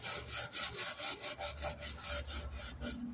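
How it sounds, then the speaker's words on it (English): A stiff-bristle cleaning brush scrubs the surface of an antique Chinese wooden altar in steady, rhythmic back-and-forth strokes, close and fairly quiet, with no talking. "I'm using, it's kind of like a stiff bristle cleaning brush."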